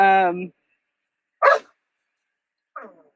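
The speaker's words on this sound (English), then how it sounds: "If you hear the dogs in the background," A dog gives a drawn-out whining yelp, then two short, separated barks follow in otherwise quiet surroundings.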